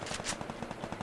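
Rapid bursts of automatic gunfire in the shooter game Free Fire, a steady rattling string of shots lasting about a second, fairly close with no talk over it.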